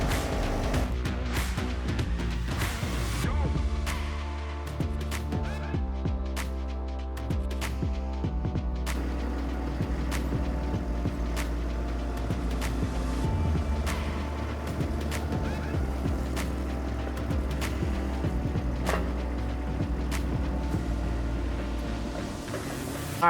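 A mini skid steer loader grinds away on a house walkway site: a steady, droning engine runs throughout, with scattered clanks and knocks from the machine working the ground nearby.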